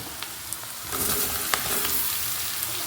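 Chopped bitter gourd tips into a hot pan of softened onions, raising a steady close sizzle with a few sharp crackles and pops, no voices.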